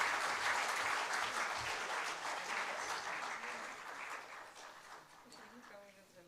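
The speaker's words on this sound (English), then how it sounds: "A larger round of applause would be great." An audience applauds at a book release of a history of Sri Parakala Mutt, with loud, dense clapping that gradually thins and fades, and a voice speaking briefly near the end.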